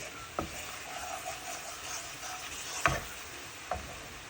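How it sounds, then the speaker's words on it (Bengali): Flour fried in a pan for quick children's noodles, a faint low sizzle with three sparse scraping knocks of a utensil against the pan. "ভালো মতো ভেজে নিচ্ছি যাতে ময়দার কোনো স্মেলটা না আসে"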